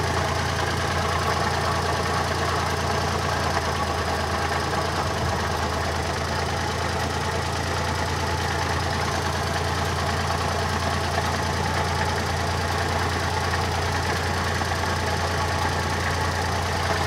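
An engine idles steadily after a distributor rotor and ignition timing adjustment, a continuous even hum with a faint rhythmic knock, running alone with no talk.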